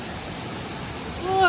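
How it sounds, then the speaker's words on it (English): Steady broadband roar of a 100 ft waterfall in Cambodia, constant and fairly near, with a brief voice breaking in at the very end. "We're going to check out this waterfall."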